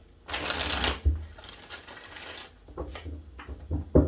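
A burst of rapid riffling as tarot cards are shuffled close by, followed by softer scattered taps and shuffles.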